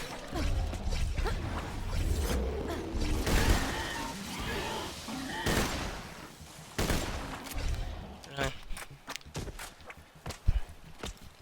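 Gunfire in Borderlands 2, bursts of rapid shots mixed with footsteps and scuffling, mid-loud with uneven clusters of impacts and a faint voice in the background.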